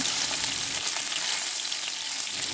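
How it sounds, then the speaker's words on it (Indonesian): Oil sizzles and crackles steadily as gourami fish fries in a pan over medium heat, a continuous close hiss with scattered pops. "Jangan lupa dibalik-balik gurame yang digoreng supaya tidak gosong ya."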